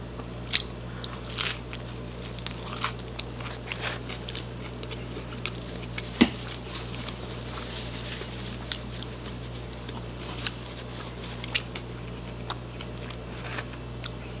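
Biting and chewing a thick, crunchy crust of Philly cheesesteak pizza, giving close, crisp crunches and crackles in irregular bursts over a steady low background hum, with no talking.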